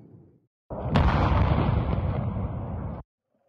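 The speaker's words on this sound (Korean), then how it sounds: "불꽃이 터지는 소리가 들리고 불기둥도 보입니다." Explosions at a Russian military ammunition depot struck by drones: a sudden heavy roaring blast erupts after a short quiet, rumbling loudly and continuously for a couple of seconds before cutting off abruptly.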